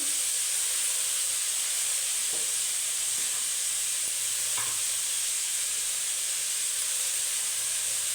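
Potatoes and finely grated carrots fry in a pan, giving an even, continuous sizzling hiss close by with a few faint stirring knocks, and no talking.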